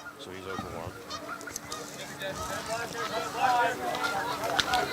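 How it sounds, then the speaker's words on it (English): A flock of geese honks steadily overhead at an outdoor high school baseball game, repeated calls layered throughout under a commentator's talk and crowd noise. "Here, a flock of geese coming through."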